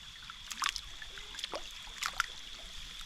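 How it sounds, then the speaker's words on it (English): A small freshwater spring runs beside a road in a natural setting, giving a faint, soft trickle with a few brief splashy bursts over a quiet background. "A nice little spring from across the road here."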